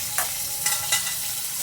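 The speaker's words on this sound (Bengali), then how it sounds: "আমার পনিরগুলো ভাজা হয়ে গেছে। আমি এবার পনিরগুলোকে তুলে নিচ্ছি।" Paneer sizzles as it fries in hot oil, a close, continuous hiss broken by a few quick scraping stirs over less than two seconds.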